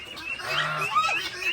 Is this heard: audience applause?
no